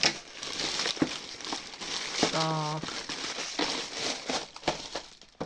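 Plastic mailer parcel from TEMU being handled and opened up close, with crinkling and crackling plastic rustles running throughout under a brief spoken word.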